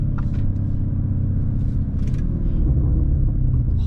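Mansory Venatus, an 850 hp tuned Lamborghini Urus, in Corsa mode in Dubai, with a loud, continuous deep exhaust rumble and a few faint crackles and pops on top. No one speaks.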